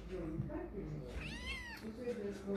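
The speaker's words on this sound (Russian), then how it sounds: "Котенок Бублик встал на ноги" A kitten recovering from a pelvic injury meows once, a clear rising-and-falling cry heard up close, with a soft background hum and faint rustling.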